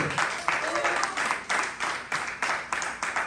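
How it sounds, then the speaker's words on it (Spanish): A church congregation claps in a steady, rhythmic beat, loud and close, with a faint voice mixed into the clapping. "Den un aplauso a Cristo"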